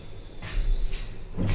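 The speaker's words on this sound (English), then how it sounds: "Doors open." Sliding doors of a modernised Foster and Cross car park lift open with a close, moderately loud rumbling slide, followed by a short thud near the end, with no talk.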